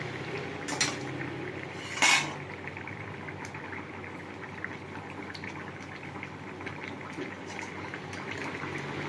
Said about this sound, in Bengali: আমার ঝোল ফুটে গেছে